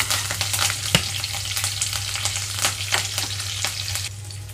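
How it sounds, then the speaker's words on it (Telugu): Tempering seeds, dried red chillies, crushed garlic and curry leaves frying in hot oil give a steady close crackling sizzle with frequent sharp pops and a low hum beneath, with no talk. "ఆయిల్ అంతా హీట్ అయిన తర్వాత తాలింపు గింజలు అలాగే ఎండుమిరపకాయలు వేసేసుకున్నాను"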